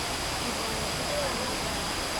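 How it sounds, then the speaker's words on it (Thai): Steady broadband rush of stream water flowing down from Mae Kampong waterfall, continuous and fairly close, filling the clip without pauses. "ได้ยินเสียงน้ำไหมครับ น้ำนี้ก็ไหลมาจากน้ำตกแม่คำปองนะครับ"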